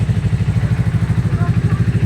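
An FKM 400 motorcycle with a twin-block engine and dual exhaust outlets idles close by, with a steady, even low thumping pulse and no knocking.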